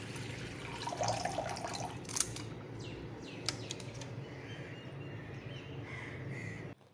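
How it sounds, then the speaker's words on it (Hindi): Cold water is poured into a bowl in a home kitchen while making vanilla ice cream; a soft, steady splash and trickle runs for about seven seconds over a low background hum, then cuts off abruptly. "इसमें 1 कप ठंडा पानी डालेंगे,"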